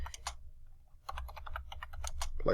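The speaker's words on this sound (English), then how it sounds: "So once you hit enter, then you're ready to type." Keys tapped on a computer keyboard while entering AutoCAD dimension values: a short burst of clicks, a pause of about half a second, then a quicker run of close, crisp keystrokes.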